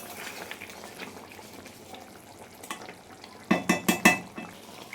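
A pan of pointed gourd and eggplant curry being gently stirred, soft scraping at first, then a quick run of four louder metallic clinks of spoon against pan near the end.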